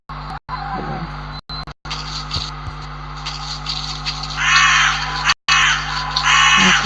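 Crows caw in a Slender Man horror video game set in a forest, with two loud bursts of harsh cawing over a steady humming, crackly game ambience broken by brief dropouts.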